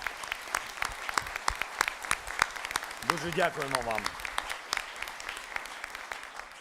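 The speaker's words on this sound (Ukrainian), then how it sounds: "І це точно заслуговує оплесків нашим хірургам" Scattered, fairly sparse clapping from an audience at an international military medicine congress, honouring military surgeons, with distinct individual claps and someone briefly speaking partway through.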